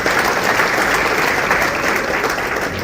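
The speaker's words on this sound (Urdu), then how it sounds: "میں خواتین و حضرات آپ کی بھرپور حوصلہ افزائی اور تالیاں چاہتی ہوں" Sustained audience applause at a mass wedding event in Pakistan, a dense, steady wash of many hands clapping together without pause, loud and close throughout.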